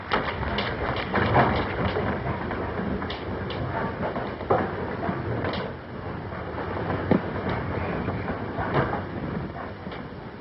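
A train running, heard as a continuous, dense rumble and rattle that stays steady and fairly loud throughout with no voices over it.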